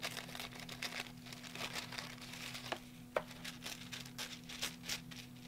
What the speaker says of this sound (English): I'm just going to rip this